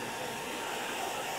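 A hair dryer drying a painting blows with a steady, loud whooshing whine, continuous and unbroken, close up.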